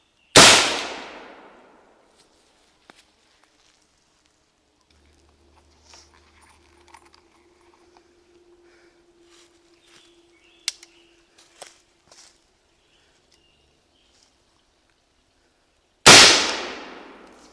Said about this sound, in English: he's going to fire the Model 1861